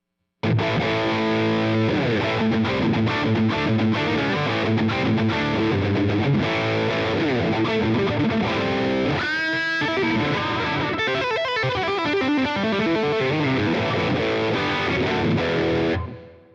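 A loud, sustained distorted electric guitar through a Line 6 Helix plays chords and notes with a wide, echoing reverb tail. It runs continuously for about sixteen seconds with no voices.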